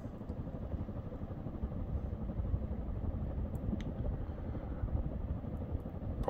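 An original Hunter ceiling fan with a pancake motor, a 52-inch Archive Series model, runs at full speed, producing a steady, low mechanical hum and whir with faint clatter, continuous and unbroken.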